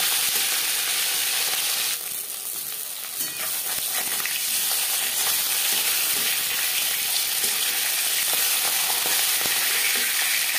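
Pieces of rohu fish fry in refined oil, a loud, steady, close sizzle and crackle running throughout, briefly dipping early on as the pan is stirred or shifted, then settling back to a constant hiss.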